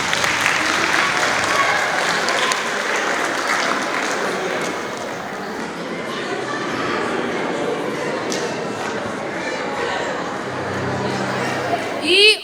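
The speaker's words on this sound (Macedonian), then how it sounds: "А сега аплауз" An audience at a children's and youth song festival applauds steadily for about twelve seconds, a dense sustained clapping that fades slightly in the middle, with a brief voice near the end.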